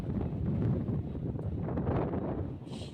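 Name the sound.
strong wind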